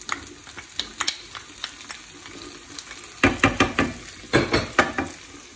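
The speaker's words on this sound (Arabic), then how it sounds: "شدينا المقله درنا فيها البصله، غنديروا فيها البصله والثومه والفلفله." Onion, garlic and pepper sizzle in a frying pan while a utensil stirs and scrapes, giving a steady crackle broken by a series of rhythmic, louder clacks against the pan, close up and with no voices.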